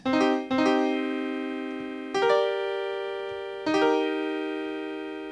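Piano-like chords from a software instrument with auto chord mode, three sustained chords struck one after another, each ringing and slowly decaying, clean and alone.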